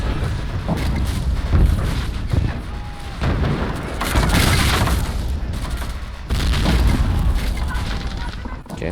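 Heavy booming blasts of grenade explosions in the Men of War war game, with rolling rumble and background gunfire filling the whole stretch, loud and continuous with several stronger bursts.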